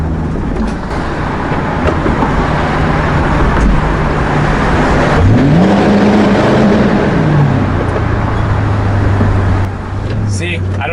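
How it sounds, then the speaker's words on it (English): A Crown Victoria Police Interceptor drives across a bridge with its loud exhaust droning steadily and near, the engine note rising and falling once midway under broad road roar. "I'll have you guys listen to how loud this exhaust is in like a bridge"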